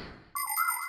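A cartoon parrot imitates a telephone ringing, producing a sudden bright electronic trill that starts after a brief quiet lead-in and holds steady to the end.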